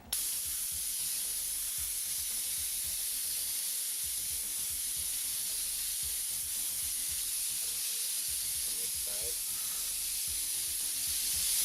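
An airbrush sprays paint in a wide pattern, giving a steady, close, even hiss that runs almost unbroken, with two brief gaps. A low voice murmurs faintly beneath it.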